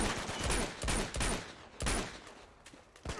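Rapid bursts of gunfire from the Uncharted 2 urban warfare combat, loud overlapping volleys in quick succession, several clustered shots then a pause and more firing, with no voices.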